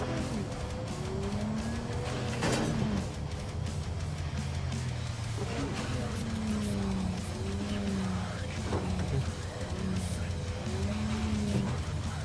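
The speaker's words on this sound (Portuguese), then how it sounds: "Barulho do motor." Car engine running in the Cyberpunk 2077 video game, a steady engine drone with rising and falling pitch sweeps continuing throughout, loud and close with no speech.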